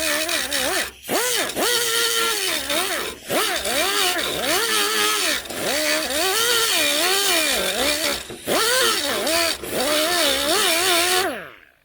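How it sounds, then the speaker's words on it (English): A small die grinder works rust off the body of a 1978 Dodge Aspen R/T, a loud, close, high whine that rises and falls as it bites into the metal, dropping briefly in a few short gaps before stopping at the end. "take this little die grinder here to get at the spots like this"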